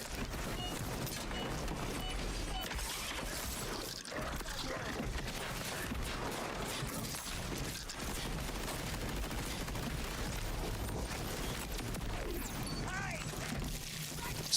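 A rapid-firing weapon in a video game, with dense, continuous bursts of shots and crashing impacts throughout, faint and busy beneath a talking voice.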